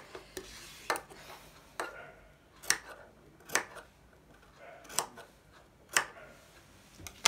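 Scissors snip through fabric for a kameez neck facing in a string of sharp, close clicks spaced about a second apart, with soft rustling of cloth in between.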